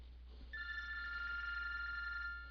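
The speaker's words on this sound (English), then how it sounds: "My mobile phone will ring." A mobile phone rings for an incoming call: a steady electronic ringtone with stacked bright tones starts after a short quiet pause and continues evenly and clearly, with no talking over it.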